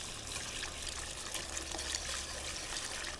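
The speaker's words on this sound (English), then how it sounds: "Okay, milk looks like it's hot, just under simmering. Just going to pour it in." Hot milk, just under a simmer, pours into a flour roux for mac and cheese, a soft steady trickle and splash under a faint low hum, with no talking.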